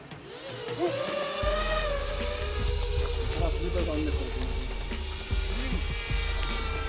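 A small FPV drone motor whirs up at launch and holds a high, steady buzzing whine, with people talking nearby during military counter-drone training.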